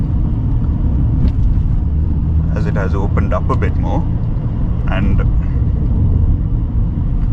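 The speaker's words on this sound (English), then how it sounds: "it's actually challenging to drive a car as big as this F10 5 Series around these corners at this legal limit of 70" A BMW F10 5 Series cruising at about 70 km/h on winding roads between Colombo and Kandy, Sri Lanka, giving a steady low cabin rumble of engine and road noise under someone talking.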